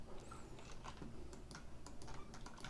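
Faint, quick computer clicks from someone working in 3ds Max on an Editable Poly object, ticking irregularly over a low room hum.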